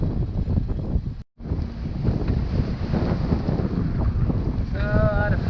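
A sailboat heading out on windy Lake Michigan, with steady roaring wind buffeting the microphone, water rushing past the hull and a brief dropout partway through; faint tonal creaks come near the end.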